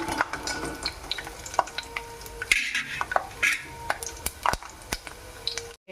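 Pulihora ingredients frying in a pan with mustard seeds, cumin and moong dal, gentle sizzling under repeated stirring scrapes and clinks of a spatula on the pan, close and moderately loud, no talking.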